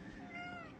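A cat gives one drawn-out, faint meow that wavers in pitch, with low background noise and no other clear sound.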